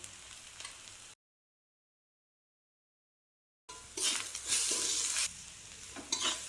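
Spiced doi-katla fish curry sizzles in a pan while a spoon scrapes and stirs it in short strokes. The sound breaks into total silence for a couple of seconds, then the louder stirring and frying return.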